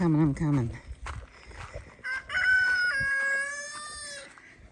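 Hens cluck and squawk in short bursts, then a rooster crows loudly in a long drawn-out call nearby.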